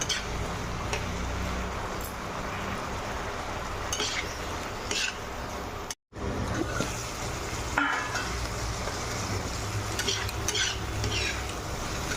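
Steady sizzling of spices with turmeric, chopped tomato and a little water frying in a pan, with occasional scraping and stirring clinks, continuous and close throughout apart from a brief gap midway.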